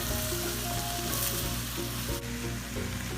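Vegetables sauté in a hot pan for a Thanksgiving dressing, giving a dense continuous sizzle with a few light scraping stirs, close and fairly loud, no talking.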